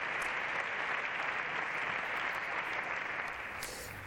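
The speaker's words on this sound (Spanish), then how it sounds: "Mariano Rajoy, el presidente de España, está agradeciendo a la bancada del Partido Popular los aplausos que está recibiendo después de esta intervención." Parliamentary applause from the Partido Popular benches in Spain's Congress of Deputies after a speech: sustained, dense clapping from many hands, loud and even throughout.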